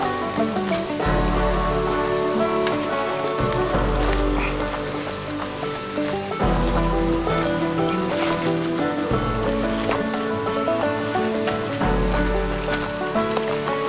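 River water rushes steadily beside a forest walking trail in the Tarabalık forests, a loud, continuous broadband wash with no pauses, heard alone without talk.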